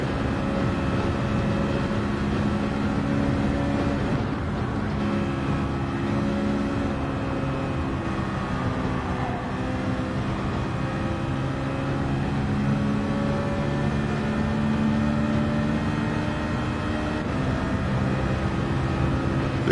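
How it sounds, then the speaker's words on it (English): A race car engine in the Gran Turismo 7 video game holds a steady, loud, high rev in fifth gear, droning continuously with a layered harmonic whine and no talk over it. "Out there, that fifth gear, Mario, that revs out nice."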